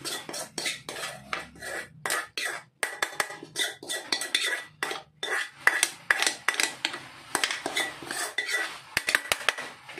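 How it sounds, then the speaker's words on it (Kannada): Apam batter is mixed in a bowl with a spoon, producing rapid, rhythmic scraping and clinking strokes, close and fairly loud, repeating steadily throughout with brief pauses and no voices. "ನಾವು ಹಿಟ್ಟಲ್ಲಿ ಇದನ್ನು ಹಾಕಿ ಮಿಕ್ಸ್ ಮಾಡೋಣ"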